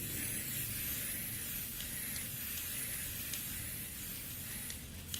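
Aerosol spray paint hisses onto a fog lamp as its first coat goes on, a soft, steady high hiss with faint bursts, quiet and close with no talk.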